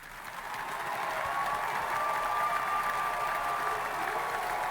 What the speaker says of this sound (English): You can tell by that applause